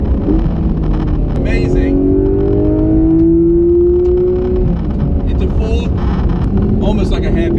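A Porsche GT3 RS on the Silverstone circuit brakes hard and corners, its engine note dropping in a long pitch sweep beneath steady wind rush, with someone talking over the cabin noise.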